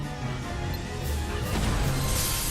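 A crashing smash as the garden roof breaks apart during a Kingdom Hearts Dream Drop Distance fight. Two brief impacts rise out of a dense bed of game music and ambience.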